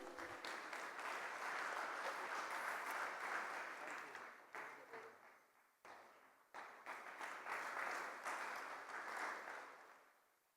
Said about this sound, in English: A big round of applause, gentlemen.